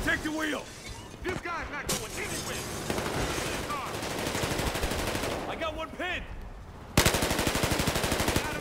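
Rapid machine gun fire in the online shooter Battlefield Hardline, dense sustained bursts rattling close and loud, ending in a sharp fast volley, while a player talks excitedly over the shooting.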